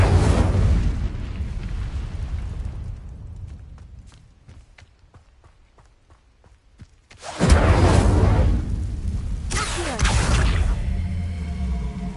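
Incendio fire spell cast in Hogwarts Legacy, a loud close whooshing burst of flame that fades to quiet rustles and taps, then a second heavy roaring blast with rumbling fire trailing off.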